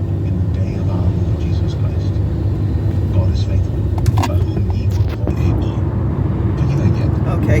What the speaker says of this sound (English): Alright guys, we're just gonna drive